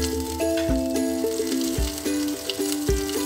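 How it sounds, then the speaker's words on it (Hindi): Whole garam masala spices lightly roasting in melted butter in a pot, a soft steady sizzle with faint crackles, under a steady musical tone running throughout, with occasional low clunks of cookware. "इसमें हम जो ये साबुत गर्म मसाले हैं ये शामिल करके हल्का सा इनको भूनेंगे"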